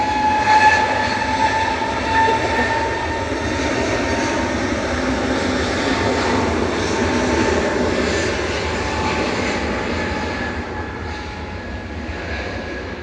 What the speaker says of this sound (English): EasyJet departing now.